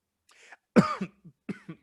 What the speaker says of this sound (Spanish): iba a hablar y justo me entró la tos